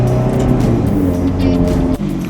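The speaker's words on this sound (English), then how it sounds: "Driving our new F430." A Ferrari F430 supercar drives along, its engine a steady, continuous drone heard from inside the cabin, holding a fairly even level for the whole stretch with a brief dip near the end.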